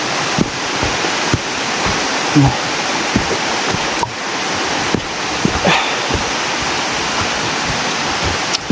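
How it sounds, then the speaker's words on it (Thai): Siriphum waterfall at Doi Inthanon in a forest setting, a loud continuous rushing roar of falling water with occasional brief knocks or handling bumps, steady throughout. "น้ำตกถือว่าสวยงามนะครับ"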